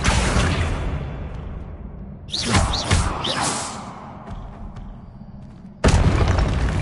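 Spell blasts from combat in the Hogwarts Legacy video game: heavy booming impacts and whooshes in bursts, a loud burst near the start, a cluster in the middle and another sudden blast near the end.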